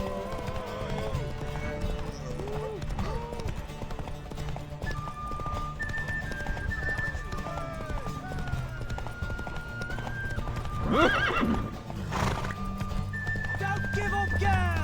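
A horse gallops in the video game Witcher 3, with rapid clip-clopping hoofbeats throughout and a couple of loud neighs near the end, while voices talk over it.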